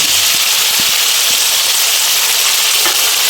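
Boiled elephant foot yam frying in a pan with cumin paste, giving a steady, dense hiss and sizzle throughout with faint stirring knocks underneath.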